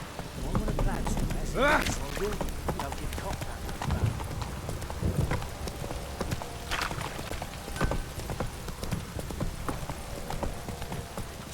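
Roach the horse gallops in The Witcher 3, a steady, loud clip-clop of hooves running throughout, with a brief whinny early on and game speech and ambience layered underneath.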